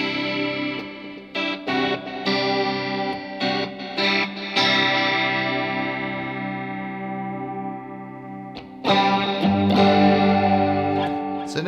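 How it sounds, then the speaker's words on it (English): Electric guitar runs through a Line 6 HX1 dimension chorus in a wet-dry rig, ringing out strummed chords and picked notes that sustain and shimmer with a wide chorus wash, fairly loud and without speech. "Then I'm going to use the Line 6 HX1 just to chuck some dimension chorus in there."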